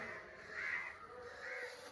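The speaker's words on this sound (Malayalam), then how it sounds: "പിന്നെ അതിൻ്റെ ഇടയിൽ കാക്ക കരയും കിളി കരയും" A crow caws twice in the evening, faint and distant, with two drawn-out rasping calls about a second apart over a quiet outdoor background.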